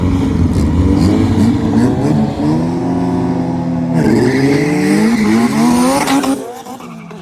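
Honda cars drag racing, with loud engines revving and rising in pitch through gear changes under tire squeal, close and continuous before easing off at the end.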